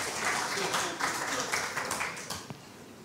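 An audience claps steadily for a few seconds in a hall, a dense spread of hands filling the room and slowly thinning out.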